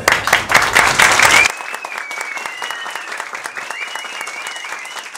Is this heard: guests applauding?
yes